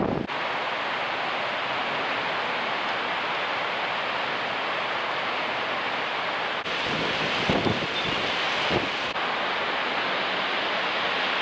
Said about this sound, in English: it's a bit breezy